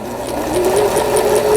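A Singer sewing machine stitching at a moderate pace, a close, even mechanical whir with a rapid repeating tick from the needle, steady for the whole short stretch.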